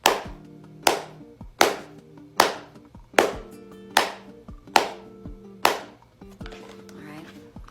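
Eight sharp single hand claps, evenly spaced about a second apart, each ringing briefly in a quiet room, close and loud, with a soft rustle after the last.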